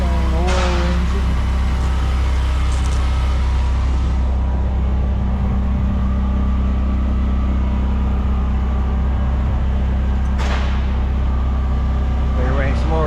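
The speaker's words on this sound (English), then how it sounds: "Blackstone oil engine." A Blackstone oil engine runs at an auction of pre-1930 tractors, a steady low mechanical drone throughout, with people talking nearby over the engine noise.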